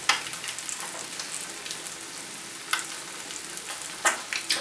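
Eggs with spicy cheese fry in a hot skillet, a steady close sizzle with soft crackles and a few sharper pops.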